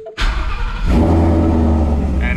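A Mustang fitted with a Paxton supercharger cranks briefly and fires up, settling into a loud, steady rumbling idle close by.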